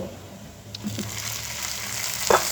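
Chopped tomatoes drop into a pan of browned onions and cumin, setting off a steady close sizzle of frying with a brief louder hiss and clatter near the end as they hit the hot oil.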